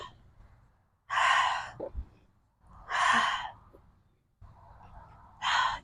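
Three slow, deep breaths during a yoga session, each a long, loud, close exhale separated by quieter pauses with softer inhales.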